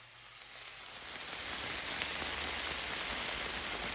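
Korean chili paste teriyaki sauce sizzles on a hot Blackstone griddle in a low-carb chicken noodle dish, a dense, steady hiss that swells over the first two seconds and then holds loud and even, with no talking.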